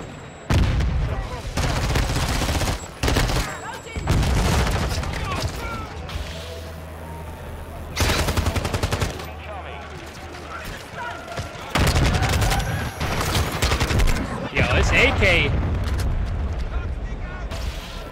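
AK rifle fire in Call of Duty Modern Warfare II, several loud sharp bursts of shots spread across the stretch over game ambience, with people talking in between.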